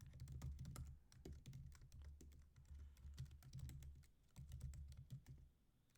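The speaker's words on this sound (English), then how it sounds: "So I'll go ahead and type this in." Code is typed on a computer keyboard in quick, uneven bursts of close, clicky keystrokes with short pauses between them. The typing is heard alone, with no voice.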